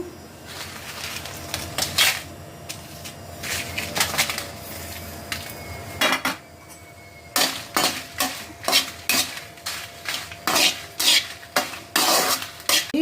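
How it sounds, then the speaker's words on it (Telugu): Dry red chillies fry in a pan under a faint sizzle while a utensil repeatedly scrapes and clinks against the pan in sharp, rhythmic strokes, growing busier in the second half. "వేగిన తర్వాత మళ్ళీ పెట్టుకొని ఎండుమిరపకాయలు వేసుకున్నాము"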